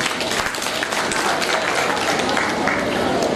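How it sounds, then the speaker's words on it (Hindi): Audience at a teachers' training college event in Darbhanga applauding, a dense, loud, continuous wash of many hands clapping at once, close and steady throughout. "इसके लिए हम सर के लिए ताली बजाना चाहते हैं।"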